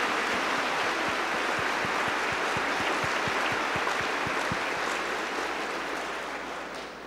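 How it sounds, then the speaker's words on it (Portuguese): A church congregation applauds during a Sunday Mass homily, a steady wash of many hands clapping at once with a soft, even texture that fades slightly at the end. "eu peço que vocês deem-se uma salva de palmas"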